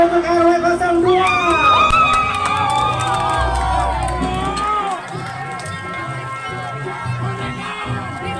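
A crowd at a village carnival in Jatinangor cheers and shouts, with children's voices and lively outdoor hubbub continuing loudly throughout and people talking amid the noise.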